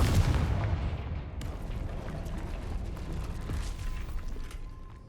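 A Confringo blasting spell explodes in the Hogwarts Legacy video game, a loud rumbling boom at the start that decays into a long, noisy crackling tail.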